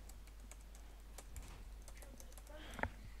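A password is typed on a computer keyboard, with quiet, quick key clicks in an irregular run and a slightly louder final tap, in a quiet room.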